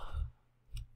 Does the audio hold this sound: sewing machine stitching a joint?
no